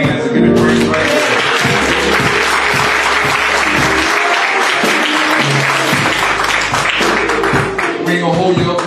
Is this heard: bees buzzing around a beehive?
no